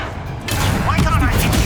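An Expelliarmus spell is cast in the video game Hogwarts Legacy, a sudden loud burst with a thudding, crackling impact that swells and holds briefly, with a voice heard alongside.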